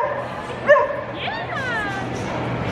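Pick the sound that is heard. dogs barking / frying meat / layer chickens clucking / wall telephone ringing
dogs barking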